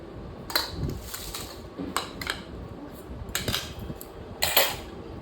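Dishes and cutlery clatter while breakfast is served: spoons scrape and clink against plates and bowls in scattered, close bursts, with short quiet gaps between.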